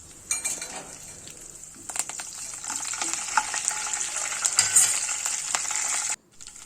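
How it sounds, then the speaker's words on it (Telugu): Tempering seeds frying in hot oil for a tadka beside a potato fry: dense crackling sizzle building and holding close to the mic, with occasional utensil clicks, then cutting off abruptly. "ఇంకో పక్క అయితే తాలింపు వేసుకుంటున్నాను అనమాట"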